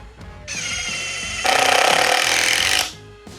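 A Makita impact driver sinks a 3-inch screw into wood, starting with a brief whir, then a steady buzzing hammer that jumps louder and harsher for over a second before cutting off.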